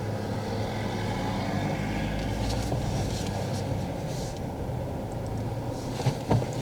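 A vehicle approaching along a road as a learner driver moves forward, a steady broadband engine and tyre rumble throughout, with a brief bump near the end.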